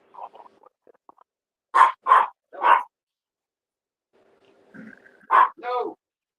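A dog barks three times in a quick close burst, then twice more after a pause, with soft low murmurs of people between the barks.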